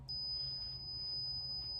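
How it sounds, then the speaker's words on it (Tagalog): A multimeter gives a continuous high-pitched continuity beep while probing the common terminal of a weak-spinning electric fan's capacitor, a single steady tone held over faint background hum. "Pagka nakita natin yung common, yun, magbe-beep."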